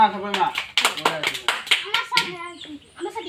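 Children at a school clap in a quick burst of sharp, uneven claps at close range, with young voices talking between and over them.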